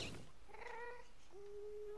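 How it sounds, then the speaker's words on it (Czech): A cat in the Minecraft video game meows twice, a rising mew and then a longer drawn-out one, faint over a steady background hum with no talking. "Kočičák jeden."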